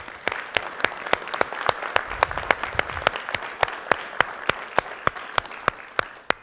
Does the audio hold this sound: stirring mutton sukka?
no